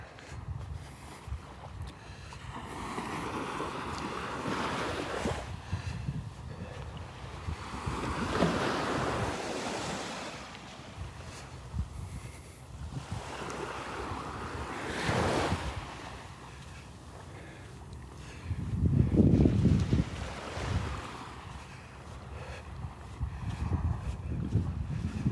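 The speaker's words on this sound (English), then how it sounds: "Breeze blowing here, making it a little chillier than it really is." Breeze blowing across the beach at Delnor-Wiggins, with gusty wind buffeting the microphone and surf washing in the background, rising and falling in long swells, no talking.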